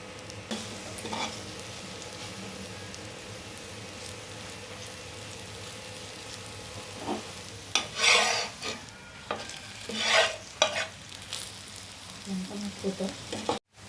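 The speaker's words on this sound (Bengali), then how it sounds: "এখন অল্প অল্প তেল দিয়ে এটাকে ভেজে নেব।" A potato-stuffed breakfast snack frying in a little oil on a griddle gives a soft continuous sizzle, broken by louder spatula scrapes and bursts of crackling midway and toward the end.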